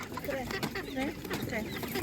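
Several chickens cluck and murmur close by at a village animal market, with people's voices mixed into the steady background noise.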